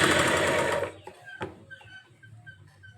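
A sewing machine with a normal presser foot runs a short burst of fast stitching on thread piping. It stops abruptly within a second, followed by a couple of soft knocks and quiet handling sounds.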